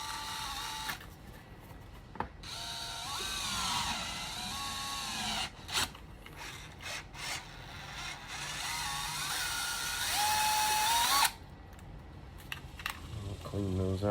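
A power drill bores holes through a purse holster for a Sig P365XL, with several short whirring bursts separated by pauses, close and fairly quiet, and someone speaking briefly between them.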